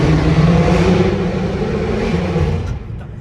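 A car drives and accelerates with a loud, close engine drone and a low rumble that holds steady, then eases off and fades near the end, with no talking.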